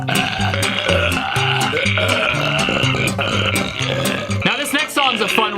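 A burp left in a song recording, sounding over continuous music with a vocal line, the belch blending into the dense mix near the end rather than standing alone.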